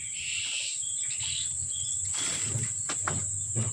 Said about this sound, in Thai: จิ้งหรีดเยอะมากเลยค่ะ อันนี้จะเป็นจิ้งหรีดเวียดนามนะคะ